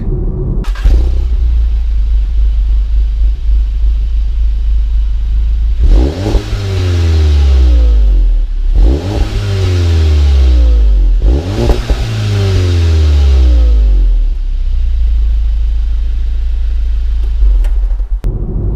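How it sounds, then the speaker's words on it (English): Stock exhaust of a VW Golf GTI 7.5 revving loudly and close, with three sharp rising-and-falling rev bursts over a steady idle rumble, no talk. "I'm going to play a little clip of what the car sounds stock"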